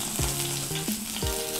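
Finely chopped garlic hitting a tablespoon of hot oil in a wok for veg Manchurian gravy, a close, steady sizzle with a few sharp bursts as it lands and is stirred, no talking.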